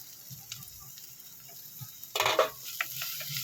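Onion and tomato sautéing in a pan, with a soft continuous sizzle and a burst of stirring clatter midway, close and fairly quiet.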